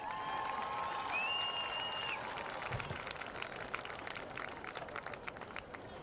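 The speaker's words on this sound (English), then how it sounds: "let's give the homecoming court a big round of applause" At a varsity high school football game, a crowd applauds the homecoming court from a distance, with a soft wash of claps under faint tones and stadium ambience, thinning toward the end.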